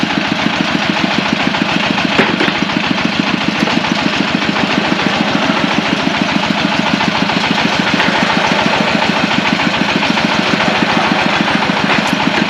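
The engine of a borehole drilling rig sinking a water well at a drinking-water factory runs loud and steady, with a constant rapid throbbing chug that continues unbroken the whole time.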